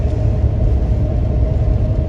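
A truck cruising along a road at midnight, heard from inside as a steady, loud low engine drone and road rumble with no breaks or voices.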